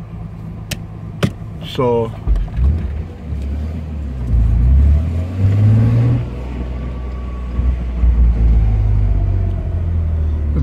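A 1987 Nissan 300ZX engine cranks with a few clicks and a whirring starter, then catches into a loud low rumble that swells with revs; someone speaks briefly near the start.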